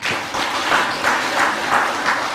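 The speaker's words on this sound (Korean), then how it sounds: "다시 한번 뜨거운 박수 부탁드리겠습니다" Applause from the audience at the opening ceremony of a National Assembly forum on improving rice policy, a steady wash of many hands clapping throughout without a break and no voices over it.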